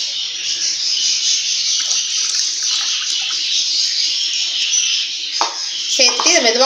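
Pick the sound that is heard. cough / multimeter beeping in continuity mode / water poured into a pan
water poured into a pan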